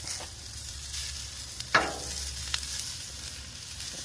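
Food frying in avocado oil on a Blackstone griddle, a steady soft sizzle throughout with a brief sharp clack partway through, close and moderately loud.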